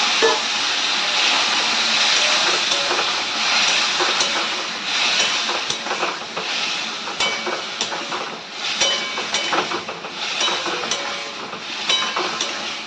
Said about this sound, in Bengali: এই যে সবজিগুলো ঢেলে দিলাম